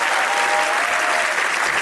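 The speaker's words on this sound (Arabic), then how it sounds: "طب سقفوا كده بس نحس ان ايديكم شغاله" A live show audience claps steadily for a couple of seconds, a dense, loud wash of applause with no pauses.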